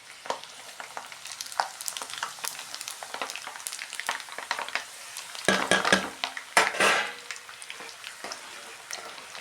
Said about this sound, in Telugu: ఆయిల్ ఇప్పటికే మరిగింది కదా, అందుకనే తొందరగానే వేసేస్తున్నా.